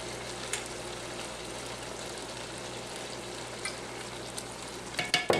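Chicken and andouille sausage jambalaya sizzles steadily in a pan as it is stirred, with a soft continuous frying hiss and a few scrapes and clinks of the spoon toward the end.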